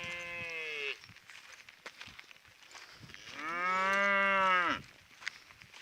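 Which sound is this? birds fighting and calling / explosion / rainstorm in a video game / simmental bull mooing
simmental bull mooing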